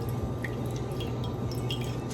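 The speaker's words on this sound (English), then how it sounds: "I'm going to try to drain this back in here, and you'll see quite a bit of water." Water drained from chopped broccoli drips and trickles steadily in small splashes, faint and close, with no talking.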